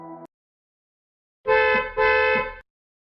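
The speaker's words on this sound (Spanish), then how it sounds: "segundos después, oigo una bocina." A vehicle horn gives a brief toot, then after a pause two longer loud honks follow back to back.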